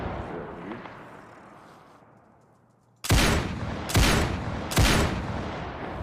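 Three loud gunshot bursts from the video game DayZ on a modded server, evenly spaced about a second apart after a quiet stretch with a faint voice murmur, each blast sharp and booming with a short decaying tail.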